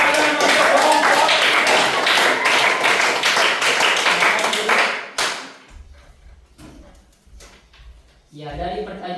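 Students in a pesantren classroom clapping for a group, a loud burst of dense applause that cuts off abruptly and leaves a few scattered noises and a resuming voice.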